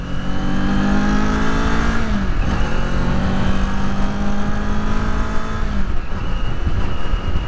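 A 2022 Kawasaki Z400 motorcycle engine drones loudly and continuously, with a thin high-pitched exhaust whine riding above the rumble as it revs and settles.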